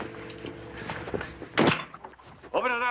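A locked door is tried and thumped in a tense detective drama, one heavy thunk followed by a rattle and softer knocks up close, with a voice speaking around them.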